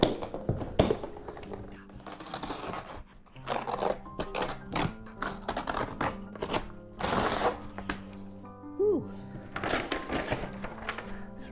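A box cutter slicing through a heavy-duty garage shelving box (2500 lb adjustable shelving), heard as a series of close, uneven cutting, tearing and cardboard-scraping bursts with scattered handling taps and rustles.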